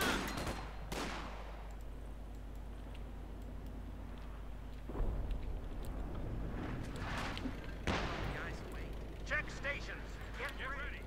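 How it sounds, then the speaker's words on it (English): Artillery barrage in the Company of Heroes 2 strategy game: repeated booming impacts and sharp explosive bursts scattered over a steady low rumble, with clusters of blasts at intervals. "Barrage is going off here."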